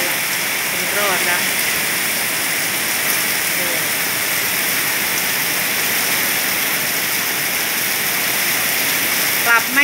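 Rain falls steadily at a rural village school in Thailand, a broad, continuous hiss of water that holds even throughout, with a few faint chirping calls mixed in.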